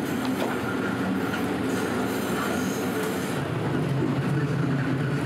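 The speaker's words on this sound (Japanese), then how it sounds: "また列車に乗って 次の場所へ。" A passenger train runs along the tracks in Taiwan on a line near Shifen, a steady close rumble of wheels and carriage noise with faint squeals and no voices.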